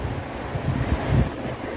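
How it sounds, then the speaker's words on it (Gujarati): Cold wind blowing across a rocky hilltop, a low rumbling gust buffeting close to the microphone and swelling briefly before easing, with no voices. "ઠંડો પવન"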